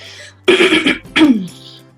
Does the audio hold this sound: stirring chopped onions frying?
no